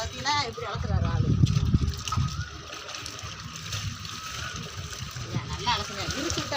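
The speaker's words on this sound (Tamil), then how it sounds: "பார்த்தீங்கன்னா இப்படி அலசுறாரு ஆளு" A man rinses clothes by hand in water, with splashing and sloshing that is loudest early on, then softer intermittent swishes, while someone talks over it.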